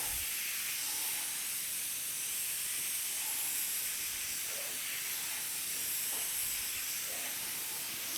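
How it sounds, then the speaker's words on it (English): A spray bottle mists a tray of pak choi microgreen seeds in a continuous close, soft hiss, steady throughout with no talking. "So go ahead and mist."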